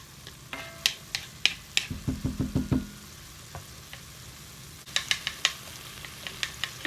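Tomatoes and salt cooking in a pan, giving a steady low sizzle with scattered light taps and clinks of a utensil against the pan, with a brief burst of louder stirring in the middle.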